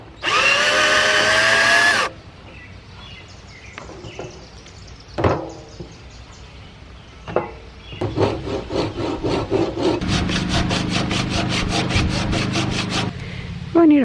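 Hand saw cutting across the grain of wood, with a loud burst of steady stroking at the start, then scattered knocks and scrapes, and finally a long run of quick, rhythmic rasping strokes close by.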